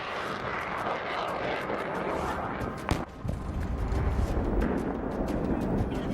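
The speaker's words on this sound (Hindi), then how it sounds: "पुतिन का सबसे खतरनाक फाइटर जेट सुपर सुखोई यानी सुखोई 30 और सुखोई 35" Sukhoi Su-30 or Su-35 fighter jet flying, a loud continuous broadband jet roar that holds steady and swells slightly toward the end, with a brief sharp crack partway through.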